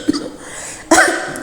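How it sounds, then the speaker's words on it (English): A single short cough bursts out near the microphone, preceded by a faint breath. "He coughed."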